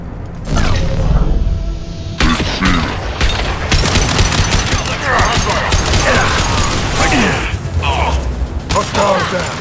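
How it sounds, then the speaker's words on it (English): Dense gunfire from Blue Suns mercenaries and Vorcha in Mass Effect's plague zone on Omega, with rapid overlapping bursts and clanking mechanical noise running almost without pause, mixed with speech. "The Blue Suns and Vorcha shooting anything that moves."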